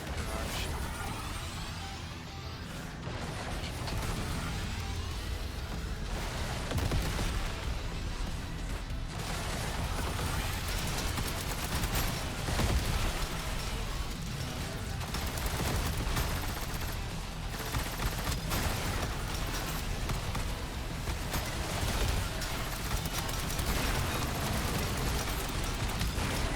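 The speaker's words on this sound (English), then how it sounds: "Oh, that's artillery barrage." Sustained artillery barrage in the vehicle-building game Trailmakers, a dense, continuous rumble of explosions and impacts lasting the whole stretch with little pause, with a voice talking over it.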